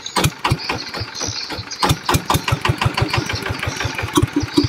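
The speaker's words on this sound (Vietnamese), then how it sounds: "Chỉ cần cứ nghe tiếng bơm là mình vui còn là nó chạy rồi." Zanma SS 90 engine-driven pump running steadily, a close, loud, mid-pitched engine chugging in a fast regular rhythm with sharp knocking pulses throughout and no speech.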